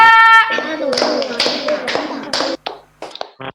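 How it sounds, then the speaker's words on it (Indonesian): Claps from a lively group in a children's church gathering, sharp hand slaps in a quick clustered burst over loud chatter and a voice, then a few scattered taps trailing off near the end. "3 kali dong tepuk tangan ya"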